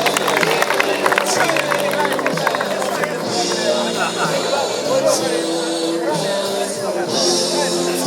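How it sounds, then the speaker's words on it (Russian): An audience at a tournament award ceremony applauds the event's oldest, most experienced player. Steady crowd clapping and murmur run through the opening seconds under an announcer's voice. "Аплодисменты самому опытному игроку нашего турнира"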